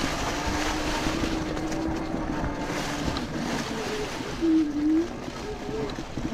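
An electric bike rides through woods near a trout fishing spot. Its motor gives a steady close whine that rises and falls as it speeds up, over rushing wind, and someone talks briefly.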